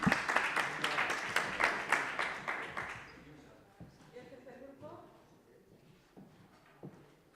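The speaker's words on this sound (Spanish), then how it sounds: "Un aplauso." Audience at a public-procurement innovation congress breaks into clapping that is loud for about three seconds, then fades to scattered claps, shuffling and a murmuring voice.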